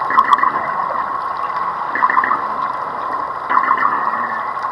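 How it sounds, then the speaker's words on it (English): Dwarf minke whales call underwater with a strange synthetic, buzzing grunt. It comes in a few repeated bursts over a murky watery gurgle. "It was eventually identified as coming from dwarf minke whales."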